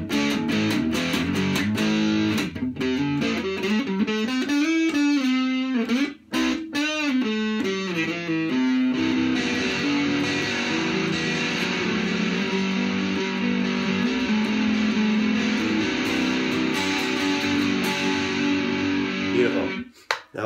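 Clean electric guitar, an Ibanez EX series on middle and neck pickups, playing picked notes and chords, the phrases ringing out with sustain, close and fairly loud, with no talking.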